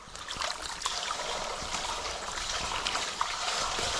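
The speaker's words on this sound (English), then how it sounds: "I hear the water spilling in." Water spills and trickles through a culvert just unclogged at a creek crossing by a beaver dam, a close, continuous gurgling flow with a steady rushing wash throughout.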